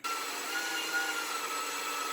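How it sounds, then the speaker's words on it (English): Drill boring holes in a steel press plate, a steady high whining grind held at even loudness throughout a short stretch. "so we'll have to drill some holes now"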